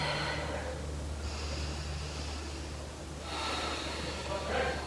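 Slow, audible breaths drawn in and pushed out during a half moon yoga pose at a wall, with long airy inhales and exhales close to the microphone over a low steady hum.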